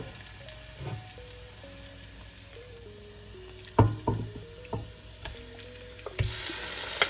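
Chicken frying in a pan with onion, ginger and garlic for biryani, a steady soft sizzle broken by a few louder bursts and clatters as pieces go in and get stirred, with no voices.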